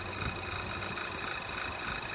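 A 2.0T engine idling just after a cold start with a dead cylinder, a steady mid-pitched hum with faint ticking as the revs settle down, close and continuous with no talking.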